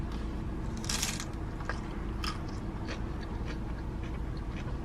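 A Taco Bell tostada bitten into up close: a single loud brittle crunch followed by a few smaller crackles of chewing, over a constant hum of room noise, with no talking.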